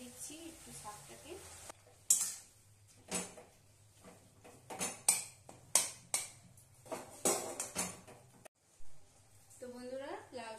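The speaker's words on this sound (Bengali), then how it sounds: "এই যে চামচের সাহায্যে আমি এই আলুটাকে একটু ম্যাশ করে দিচ্ছি, একটু শাকটাকে" A spoon mashes potato and bottle gourd greens in a pan, giving repeated scraping and knocking strikes against the metal, close and fairly loud, interspersed with a voice talking.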